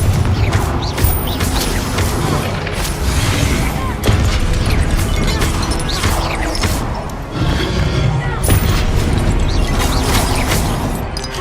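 A Confringo fire spell blasts in a Hogwarts wizarding game, loud booming crashes and rumbling debris rolling on over several seconds with mechanical clatter.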